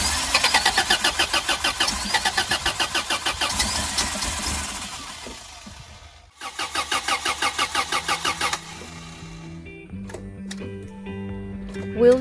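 A van engine cranks with rapid rhythmic chugging, catches briefly, cranks again, then settles into a steady running idle, loud and close, after the tank was pumped and the fuel lines flushed of contaminated fuel.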